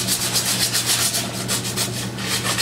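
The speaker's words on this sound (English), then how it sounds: "Use your emery cloth, 360 degrees around the pipe itself, removing any contamination," Emery cloth is rubbed all the way around a pipe to strip paint, rust and contamination, making a close, steady raspy scrubbing in quick repeated back-and-forth strokes, with a low hum underneath and no talking.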